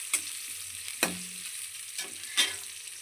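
Tomato rice frying in a pan gives a soft, steady sizzle, broken by three or four scraping stir strokes spaced about a second apart, with no voices.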